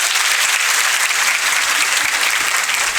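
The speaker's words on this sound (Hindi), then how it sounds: "तो इनके लिए जोरदार तालियां बजाएंगे।" Loud, dense applause from a large audience, a continuous roar of many hands clapping together without any voices.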